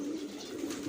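Pet pigeons let out of their cages after a long time give a steady, soft, low cooing drone, close and unbroken for under a second with no talk.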